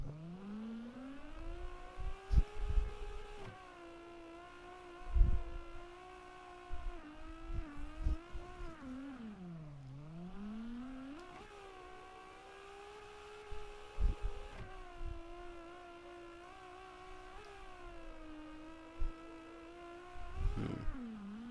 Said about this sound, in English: I apologize for my turbo drifting right now